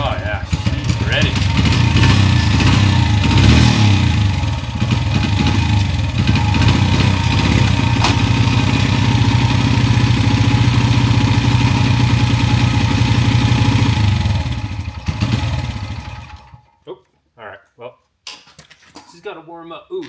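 A 1990s Honda XR100 dirt bike engine idles steadily while warming up, a loud, even running drone that cuts off after about sixteen seconds and leaves brief knocks and handling noises.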